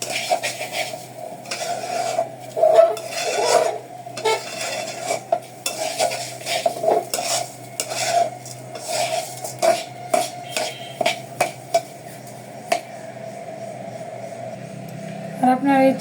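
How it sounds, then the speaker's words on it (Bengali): A spatula scrapes and stirs rice being fried in a pan for chicken fried rice, in a steady rhythm of close scraping strokes over a faint background sizzle. "তাই আমি চাউলটাকে একটু নেড়ে চেড়ে"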